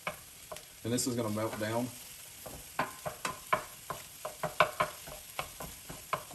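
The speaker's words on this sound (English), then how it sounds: "And you're going to want to stir this." Cream cheese being stirred into cooked onions and jalapeno in a pan for chicken enchiladas, with a brief spoken remark near the start followed by a steady run of sharp utensil scrapes under a soft sizzle.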